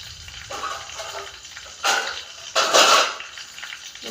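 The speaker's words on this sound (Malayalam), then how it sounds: "നമ്മുടെ കടുകൊക്കെ പൊട്ടാൻ തുടങ്ങിയിട്ടുണ്ട്" Mustard seeds crackle and splutter in hot oil in a home kitchen, with scattered pops building into two louder bursts of frying near the middle and end.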